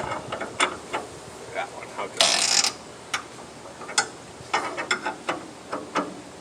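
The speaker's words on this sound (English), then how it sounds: "I need a wrench to loosen that up" A wrench loosens a bolt on a sawmill with scattered metallic clicks and ratcheting, plus one short harsh grinding burst. A voice speaks briefly.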